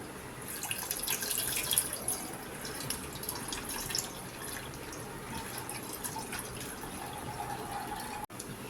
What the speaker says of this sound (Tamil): பால் பாத்திரத்தில் வச்சுட்டு பால் ஊற்றிக்கலாங்களே